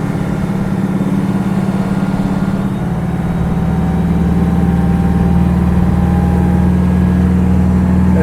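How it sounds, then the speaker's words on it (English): A water pump running on a floor test, circulating tank water, gives a loud, steady low hum with a constant mechanical drone and a slight rise in pitch partway through. "We're circulating water from the tank through the pump and back into the tank."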